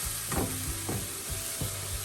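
Masala sautéing in a pan for a prawn malai curry, a steady low sizzle with a few soft stirring scrapes recurring roughly every half second, close and moderately quiet with no talk.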